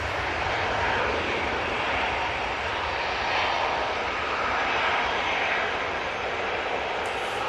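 Jet engines of an easyJet airliner roar steadily as it departs, a loud, sustained broadband rush holding for the whole stretch without letup.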